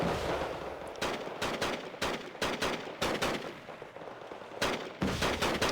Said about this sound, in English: Grenade launcher are so devastating.